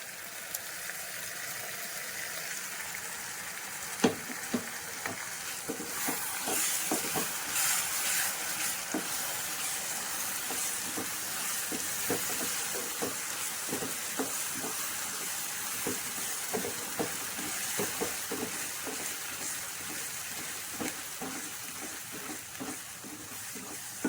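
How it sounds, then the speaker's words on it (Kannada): Ground masala paste for egg curry frying in hot oil, a steady close sizzle with light stirring scrapes and occasional clicks of the spoon against the pan, and no talking. "ಇದು ಸ್ವಲ್ಪ ಎಣ್ಣೆ ಬಿಟ್ಕೊಳ್ಳೋವರೆಗೂ ಚೆನ್ನಾಗಿ ಹುರಿಬೇಕು"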